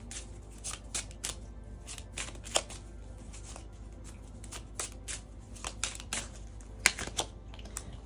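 Oracle cards shuffled by hand in short repeated bursts of soft riffling and flicking, fairly close and quiet, with brief pauses between bursts and no talking.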